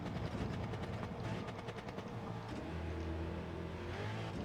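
A Porsche 917 race car engine in Gran Turismo 7 on the Sardegna road circuit revs hard and steadily, with pitch dips at gear changes, loud and continuous from inside the car, with no voices.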